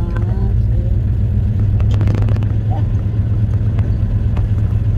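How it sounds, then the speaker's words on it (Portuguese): An old Jeep with loose steering rolls along slowly, its low engine rumble and road noise steady throughout, with people talking over it. "Agora nós vai pegar o Jeep e vai dar um rolê de Jeep"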